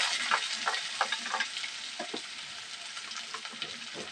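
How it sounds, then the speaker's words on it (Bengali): Chopped onion sizzles in hot white oil for a chicken kali mirch dish, a steady close crackling hiss broken by small scraping stirs, with no talking. "তেলটা গরম হয়ে গেছে, তেলের মধ্যে পেঁয়াজ কুচি দিয়ে দেবো।"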